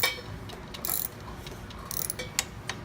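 Clicking ratchet mechanism on a climbing descent brake as it is reset, a few quick mechanical clicks and rattles close by over a steady low hum, with no talking.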